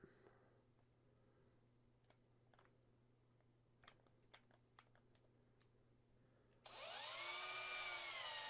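A small hand or power drill bores a tiny pin hole into a resin model kit figure, a steady loud whirring burst arriving near the end after quiet scattered clicks and taps.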